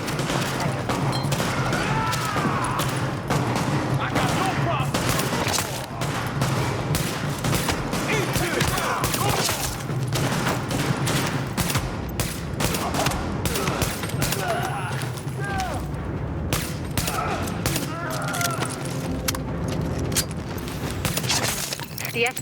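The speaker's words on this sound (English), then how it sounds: "The escort party's taking heavy fire from the roof." Firefight gunfire in the game The Division, with rapid automatic bursts and single shots close and loud throughout, mixed with glass shattering and impacts, and voices speaking over the fighting.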